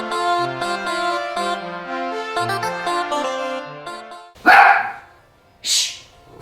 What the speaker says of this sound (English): No barking like that. Don't you bark like that.